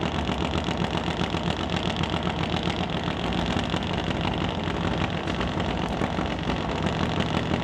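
Top Fuel Harley drag motorcycle running on nitromethane during a test pass at a drag strip, heard as a dense, fairly faint mechanical roar that stays steady and distant throughout.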